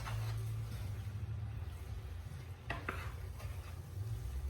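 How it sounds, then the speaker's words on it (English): Vegetables tossed with McCormick fajita seasoning mix in a pan, a close, steady scraping stir with soft sizzling underneath and a couple of sharp utensil clinks against the pan. "Give them a stir to combine all that."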